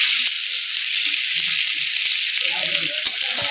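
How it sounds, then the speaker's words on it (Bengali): Chicken pieces sizzling and frying in a pan as the meat is browned, a steady loud hiss with occasional stirring clatter and scraping, no talk. "মাংসটা একদম সুন্দর কষানো হয়ে গেছে"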